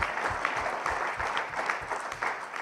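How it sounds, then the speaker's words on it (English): A room full of people claps steadily, with dense, rapid applause at an even volume from start to finish. "I think we need a huge round of applause."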